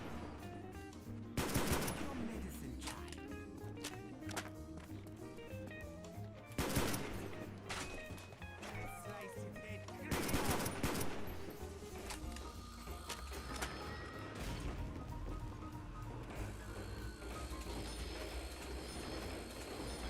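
A ray gun fires repeatedly on the Call of Duty zombies map Verruckt, giving sharp bursts at irregular intervals over clanking mechanical game sounds, with faint talk at times.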